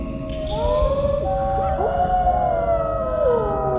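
Wolves howl together at night, several long rising and falling voices overlapping in a sustained, loud chorus that fills the whole stretch with no speech.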